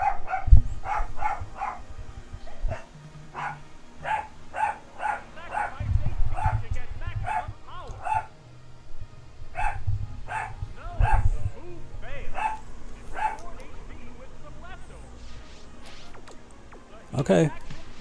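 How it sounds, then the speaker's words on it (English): A real dog barks in the background during a Pokemon Stadium 2 battle session, a long series of sharp barks at a steady pace over game audio and ongoing talk. "my dog was barking in the background"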